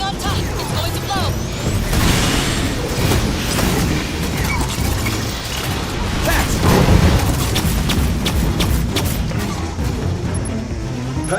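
Explosion in the sci-fi shooter game Aliens: Fireteam Elite, a heavy booming blast that rumbles on amid dense gunfire, crashes and chaotic combat noise, with voices shouting over the din.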